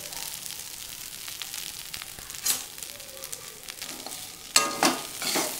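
Aval (flattened rice) stir-fried in a pan with a soft, steady sizzle and scraping stirs, plus a few sharper clatters and bursts of frying noise near the end, no talking.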